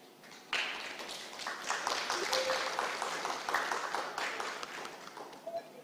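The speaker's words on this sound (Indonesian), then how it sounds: "Tepuk tangannya boleh kita dengar kembali." Applause relayed from a mayoral candidate's campaign post during a Magelang public debate starts abruptly and continues as moderately faint, dense clapping with scattered sharp taps, thinning toward the end.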